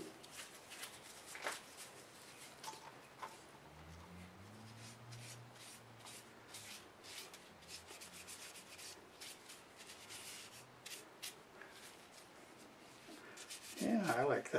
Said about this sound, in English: I'm going to use the Minwax wipe-on poly